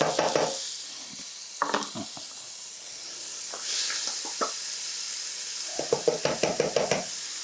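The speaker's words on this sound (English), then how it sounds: "So you can hear the sizzle there." Onions and carrots sizzle in vegetable oil for a cottage pie, giving a soft, steady hiss broken by clusters of sharp utensil knocks against the pan, with no one talking.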